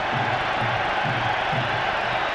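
A big Old Trafford crowd of Manchester United fans gives a sustained roar of cheering and applause in welcome to Scholes.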